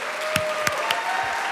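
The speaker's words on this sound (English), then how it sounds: "Please join me in a round of applause for our team." Applause in the Colorado House of Representatives legislative chamber, steady broadband clapping from many hands across the whole stretch with a few sharper nearby claps standing out.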